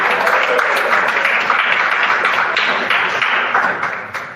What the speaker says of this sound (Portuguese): Vamos receber o diácono Gabriel com palmas